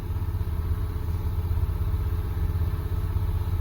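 The engine of the vehicle called "The General" runs at a fast idle with a steady, low, rumbling drone and some clatter, loud and close throughout.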